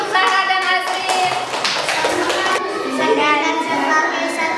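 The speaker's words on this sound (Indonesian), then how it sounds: "Iya, tepuk tangan untuk Sarah dan Azrin" Classroom applause for two pupils, a crowd of children clapping steadily and fairly close, with young voices mixed in throughout.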